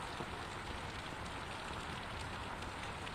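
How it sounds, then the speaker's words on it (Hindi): Steady, continuous rain falls on surfaces in Jaipur, a dense, even hiss that holds at the same level throughout with no voices over it. "देखिए अभी भी जो बारिश का दौर है लगातार जारी है।"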